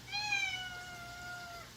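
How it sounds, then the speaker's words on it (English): A pet cat gives a single drawn-out meow, fairly close and clear, its tone sliding gently downward over nearly two seconds against a quiet room in a kitchen during cooking. "please excuse my kitty cat, he does not like being ignored"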